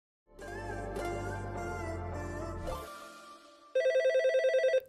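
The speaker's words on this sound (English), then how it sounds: "it seems like the phone has been ringing for forever" Telephone ringing with a musical ringtone-like tone that sustains and fades, then a sharp, loud burst of rapid pulsing rings near the end.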